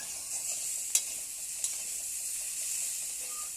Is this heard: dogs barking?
no